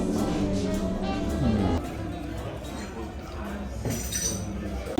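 Glasses clink together in a toast at a street-food stop in Cagliari, Sardinia, a couple of light chimes near the mic amid a voice and background chatter.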